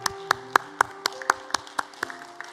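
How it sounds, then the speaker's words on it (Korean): Sharp, evenly spaced hand claps from a church congregation during a worship service, about ten crisp beats in a steady rhythm, fairly close and with no talking. "우리 주님께 감사의 박수를 올려드리겠습니다"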